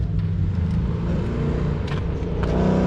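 A Nissan 370 passes along a road during a holiday group ride, its engine a chunky low rumble that swells near the end, close and fairly loud with no talk.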